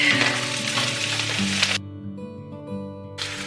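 Loose vegetables sizzling and frying in a hot pan, a steady loud crackle that drops away partway through, leaving quieter low tones before the sizzle briefly returns at the end.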